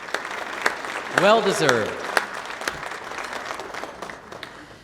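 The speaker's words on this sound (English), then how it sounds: "Would you please join me in a round of applause for all of our sponsors?" An audience at a business summit's opening session gives moderate, scattered applause for the sponsors, with a voice speaking briefly over the clapping as it gradually thins out.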